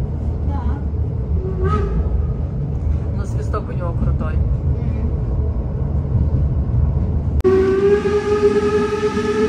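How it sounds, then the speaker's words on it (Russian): A steam train rumbles steadily nearby, then a loud, sustained horn blast sounds near the end, with a few brief voices earlier. "Ну, теперь проводим поезд."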